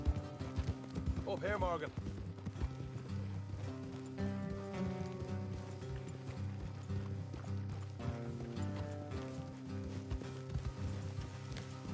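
Horse hooves clop steadily in Red Dead Redemption 2 beneath a speaking voice, with music and creaking movement sounds mixed in.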